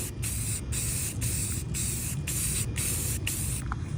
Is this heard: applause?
no